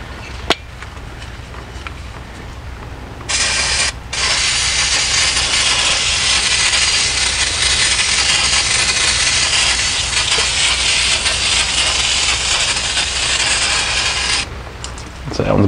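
An aerosol can of CarQuest brake cleaner sprays in a long, loud continuous hiss while working on rear drum brakes of a 1995 Chevy K1500 4x4, preceded by brief short bursts and faint handling noises.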